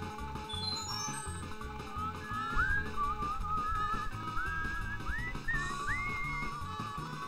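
A person whistles along to Super Mario 64 game music, with short rising, sliding whistled phrases over the steady looping soundtrack, close and clear without speech.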